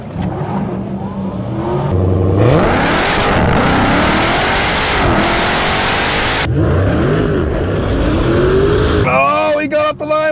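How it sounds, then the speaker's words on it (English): A Tesla Plaid and a Dodge Demon 170 launch side by side in a drag race: a loud, close engine roar swells and revs hard for the whole stretch, with voices partly buried under it. "oh, he got off the line, but I passed him"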